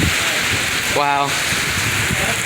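Heavy rain pours steadily throughout a windy storm, a dense continuous hiss close to the microphone, with a brief tonal whine cutting in midway.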